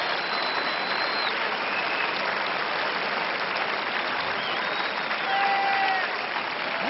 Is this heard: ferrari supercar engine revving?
no